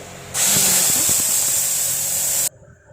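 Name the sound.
lightly frying black cumin for ridge gourd mash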